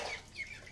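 A hen gives a short, faint cluck from a small farmyard flock of chickens and ducks, heard alone with no voices.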